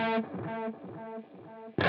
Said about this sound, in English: if I bring this down to 0, you're going to hear the first repeat of the delayed repeats, or the echoes